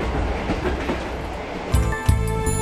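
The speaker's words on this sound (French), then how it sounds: "Mais n'oublions pas le train." A train rolling on rails in China, heavy continuous rumble with rhythmic clacks from the wheels passing over joints, close and loud.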